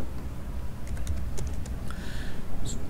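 Rapid clicking keystrokes on a computer keyboard typing into a search box, a short burst of close, crisp taps with brief pauses between them and no talk.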